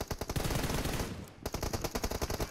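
Rapid automatic gunfire from a PUBG Mobile match, loud bursts of repeated shots that pause briefly near the middle before another fast burst resumes.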